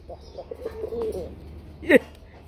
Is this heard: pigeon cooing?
yes